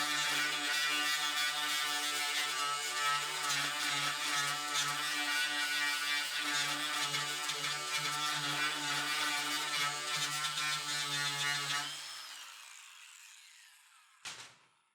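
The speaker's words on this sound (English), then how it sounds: "run the grinder across and just see what we have left" An angle grinder runs across a car body panel after welded pulling studs are removed from a dent repair: a steady, close, high-pitched whine for about twelve seconds, then winding down, with a brief knock at the end.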